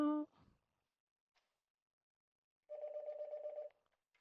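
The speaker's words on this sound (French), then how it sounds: "J'ai mon téléphone qui sonne en même temps." A mobile phone rings during an online call: one steady, tonal ring lasting about a second after a short fragment of voice, then silence.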